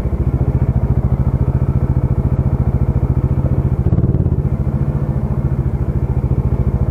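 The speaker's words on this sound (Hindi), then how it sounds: "बाइक मोड़ने में बड़ी मुश्किल है यार" A motorcycle ridden and maneuvered through a tight space gives a steady, close, low engine thrum with even pulsing throughout and a brief clattering knock near the middle, with no talking.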